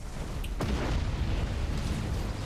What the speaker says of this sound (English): there goes one Nova cannon